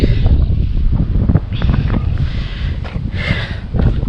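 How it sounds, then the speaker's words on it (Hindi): Strong wind gusts through trees in a mountain forest in Himachal Pradesh, a loud continuous rushing roar with rising and falling swells. "तेज़ हवा इसलिए साए हो रही है।"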